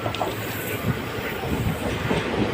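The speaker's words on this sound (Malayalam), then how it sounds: "ട്രെയിൻ ഇപ്പോൾ ചിറയൻകീഴ് റെയിൽവേ സ്റ്റേഷനിൽ നിന്ന് വിട്ടേ" The Punalur–Madurai Express pulling out of Chirayinkeezhu station, heard from a side seat inside the coach: a steady rumble with rhythmic wheel clatter and faint squeal, no talking.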